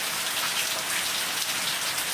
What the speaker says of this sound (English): The rain makes you crazy